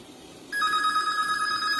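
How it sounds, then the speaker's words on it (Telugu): A plant intercom telephone from Mimec Electronics starts ringing after a short quiet moment, a bright electronic ring tone that sounds continuously and clearly up close until the end. "ఇలా రింగ్ అవుతుంది మనకి."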